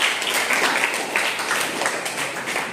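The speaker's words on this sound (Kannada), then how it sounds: "ಚಪ್ಪಾಳೆ ಹೊಡಿದರು." Applause from a school quiz audience of ninth-grade students, a dense, steady burst of many hands clapping up close, filling the whole moment without a break.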